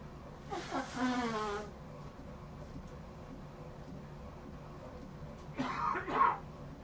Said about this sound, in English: I'm going to blow my nose and cough.